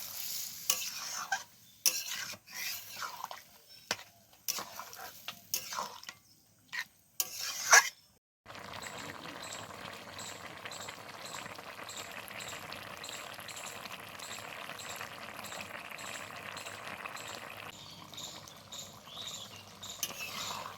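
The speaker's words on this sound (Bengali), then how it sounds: "বেশি জল আমি ব্যবহার করবো না এবারে এটাকে খুব ভালোভাবে ফুটিয়ে নেব" Soybean curry cooks in a pan with a small amount of added water. Several short scraping stirs come first, then a continuous, fairly faint bubbling simmer runs steadily to the end.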